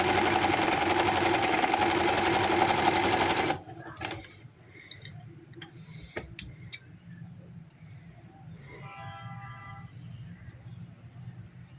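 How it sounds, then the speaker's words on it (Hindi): A sewing machine stitches fabric strips for a baby boy's hoodie shirt, running as a loud, steady, fast whir for about three and a half seconds before stopping, followed by quiet handling clicks and scattered light taps. "दूसरी तरफ भी मैं सिलाई लगा के मुकम्मल कर देती हूँ"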